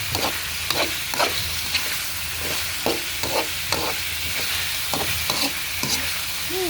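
Pork frying in its own rendered fat for Filipino tinola, a steady close sizzle with repeated scraping stirs and clinks at an even rhythm, no talk over it.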